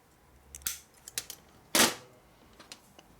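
Scissors cutting a small gasket for a 1961 Harley-Davidson Sportster XLCH transmission and motor rebuild: a few sharp, isolated snips, with one louder, longer cut near the middle, close by in a quiet room.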